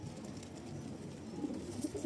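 Pigeons coo softly on a rooftop, a low continuous burbling murmur, faint and steady with no voices over it.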